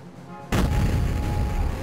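A launcher weapon firing in the Duke Forces video game, one sudden loud boom that cuts in and rolls on as a sustained heavy blast.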